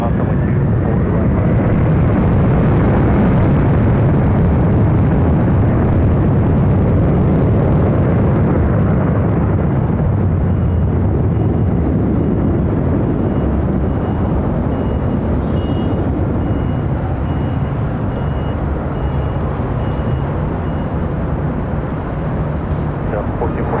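A heavy Delta jet airliner takes off from a runway at LAX, its loud, dense engine roar filling the whole stretch and slowly easing, with no voices over it.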